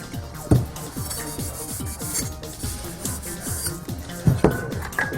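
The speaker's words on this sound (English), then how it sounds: "Then also the inside of the tubes you're going to have to try and get with the Scotch-Brite pad as well." A Scotch-Brite pad scrubs an aluminium beam splicer extrusion tube during adhesive preparation, a close, continuous rhythmic rubbing and scraping with quick repeated strokes and a few sharper knocks.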